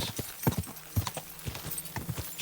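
Horse hooves clip-clopping in Kingdom Come: Deliverance 2, a close, steady walking rhythm of sharp hoof strikes on hard ground with faint snorting and no talking.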